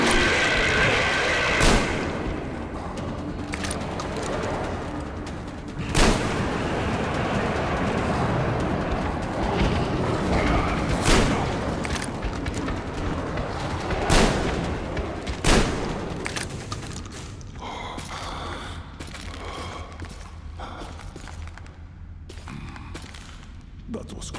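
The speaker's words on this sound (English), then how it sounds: "Mutants, open fire!" Gunfire against mutants in Metro Exodus: sharp shots and short bursts go off irregularly across a dense, rumbling firefight, with several loud cracks standing out. Voices are heard over the shooting.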